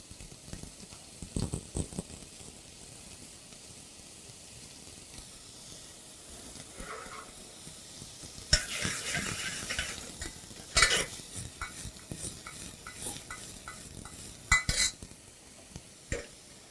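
Vegetables, onions among them, sweating in a soup pot, a soft low sizzle broken by bursts of stirring and utensil scrapes against the pot, fairly quiet and close with no talking.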